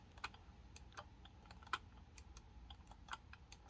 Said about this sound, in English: I'll shut up while I click those so you can hear how loud those are.